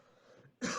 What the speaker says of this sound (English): I'm just clearing I had to clear my throat.